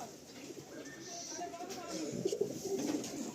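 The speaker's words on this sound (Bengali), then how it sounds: "এটা নর আছে, নর পায়রা আছে" A male pigeon at a Kolkata pigeon seller's stall coos in low, repeated throaty rolls, fairly close, with people talking at the same time.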